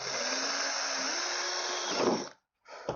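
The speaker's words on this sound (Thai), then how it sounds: "เจาะเอาสายเข้ามาตรงนี้ครับเพื่อนก็เจาะข้างใต้เนี่ย" A power drill whines steadily at close range for about two seconds while drilling a car door panel, winds down, then bursts briefly again after a short pause.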